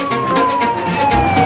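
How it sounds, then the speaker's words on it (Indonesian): A red toy ambulance siren wails with a steady electronic tone, close and fairly loud, pulsing slightly throughout. "Lihat teman-teman, ada mobil ambulan berwarna merah."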